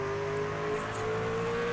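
A racing truck's engine holds a steady, loud throttle note that shifts slightly in pitch, with a faint higher whine passing over it, and no voices present.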